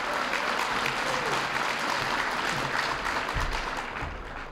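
An audience at an Asian-American Democratic dinner in California claps and cheers steadily for John Huang, dense applause that tapers slightly at the end.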